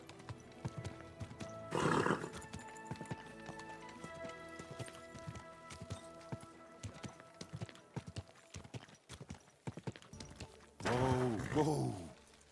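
A horse in the medieval video game Kingdom Come: Deliverance II clip-clops steadily throughout, with two loud whinnies, one early and one near the end, and someone talking in places.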